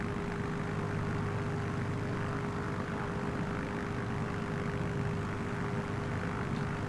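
A Beechcraft Bonanza 36 in Microsoft Flight Simulator 2020 gives off a steady, unbroken propeller-engine drone with a constant hum, moderately loud and unchanging for the whole stretch, with no talk.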